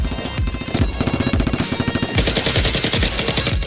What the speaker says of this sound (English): Xicman hands the suitcase to Mina, takes a gun, and fires at Jack.